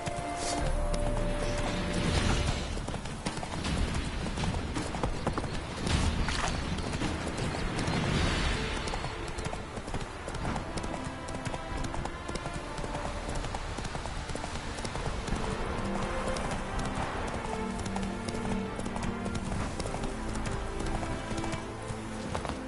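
Roach, a horse in The Witcher 3 game, trots along with a steady, close clip-clop of hooves, rhythmic and continuous, with a brief whinny and faint ambient game sound behind.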